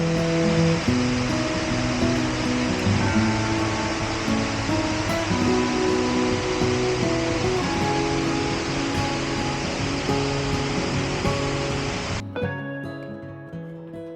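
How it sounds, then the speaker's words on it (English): A small roadside waterfall on a country lane gives off a steady, broad rushing wash of falling water. It holds constant for about twelve seconds, then drops away abruptly near the end. "I passed a small waterfall on the left hand side. You can probably hear it in the background."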